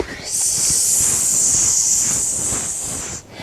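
A person imitates a snake with one long, steady hiss lasting about three seconds, close and fairly loud, then it cuts off.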